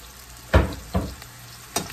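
Onions, green peppers and mushrooms, seasoned like a steak, are sautéed in a hot pan, with a soft sizzle broken by three sharp stirring scrapes and tosses, close and without talk.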